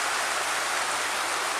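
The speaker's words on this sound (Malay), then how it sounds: "Dengar tak suara hujan?" Steady rain falls throughout, a broad, even hiss of drops with no gaps or voices over it.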